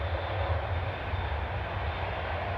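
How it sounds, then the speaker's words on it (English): An Etihad Boeing 787-10 Dreamliner departing Manchester Airport on its second attempt gives off a deep, steady jet roar with a strong low rumble, sustained and fairly loud throughout. "Second attempt to depart. Etihad Flight 16 back to Abu Dhabi with A6 BME. It's a 787-10 Dreamliner this."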